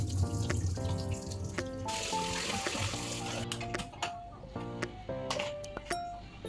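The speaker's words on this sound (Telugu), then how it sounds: "రైస్ మంచిగా కడుక్కొని కావాల్సినంత వాటర్ పోసేసి పొయ్యి మీద పెట్టుకుందాం" Rice being washed and water poured into a pot in a home kitchen, faint splashing and trickling with light clinks of the vessel, quiet and close.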